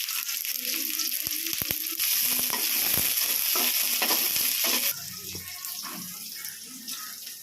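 Crushed garlic cloves drop into hot oil with onions, mustard seeds and dal for a brinjal kara kuzhambu, giving a steady close sizzle with a few stirring knocks that eases off partway through.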